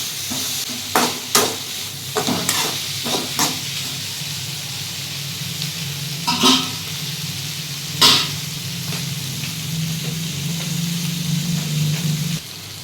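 Vegetables sautéing in a pan, with a steady low sizzle and a few sharp spatula scrapes and clacks scattered through, close up and with no voices.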